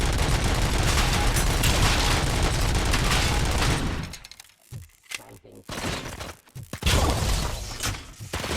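Explosions and bursts of gunfire in the video game RoboCop Rogue City, loud and dense for the first four seconds, then a drop to sparse crackling blasts and a renewed loud burst, with someone talking over the action.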